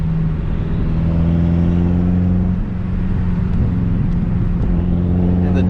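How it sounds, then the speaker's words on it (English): BMW F10 M5 V8 engine during a launch-control run, heard from inside the car as a loud, steady low drone with harmonic engine tones throughout, without clear revving swings. "I don't know if you guys can hear that turbo spool"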